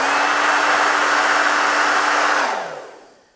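A Remington hair dryer blows steadily at full power with a high whine, then winds down and fades out as it is switched off near the end.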